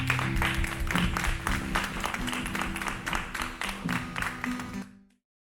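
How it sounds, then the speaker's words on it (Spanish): Applause fills a church service for about five seconds, dense clapping with a steady low hum of music or organ underneath, then cutting off abruptly. "Den un gran aplauso."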